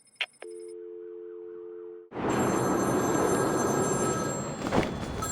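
A telephone rings in Batman: Arkham City during the Victor Zsasz phone side mission, a steady electronic tone giving way to a loud, dense wash of game noise that fills the rest of the moment.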